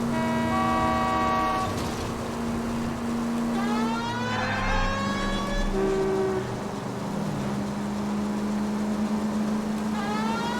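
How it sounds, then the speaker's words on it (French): Car horns honking repeatedly in street traffic within the video game L.A. Noire, long sustained blasts and shorter toots layered over engine rumble, loud and close with no talk. "Mais pourquoi tu me klaxonnes?"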